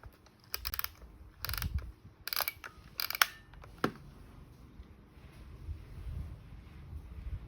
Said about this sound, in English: continue to advance the wheel until it stops at number 1